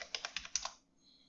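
Quick bursts of typing on a computer keyboard, about seven close, crisp keystrokes in a short run, then quiet.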